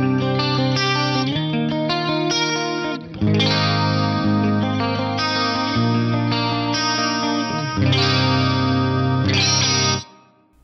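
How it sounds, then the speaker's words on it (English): Electric guitar chords ring out with a swirling, sweeping Yamaha SPX90-style symphonic flanger effect, strummed in several sustained phrases with brief gaps between them. "you can get the Yamaha SPX90 style Symphonic from the flanger block."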